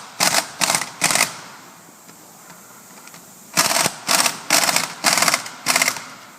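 Impact wrench tightening wheel lug nuts in a cross pattern: three short rattling bursts, a quiet pause, then five more bursts, close and loud with no talk.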